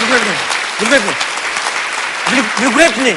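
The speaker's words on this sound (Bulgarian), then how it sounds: "аплодисменти за тях, аплодисменти" Applause for the musicians at a live show, a dense, continuous clatter of clapping under a man's loud, animated talking that runs across most of the stretch.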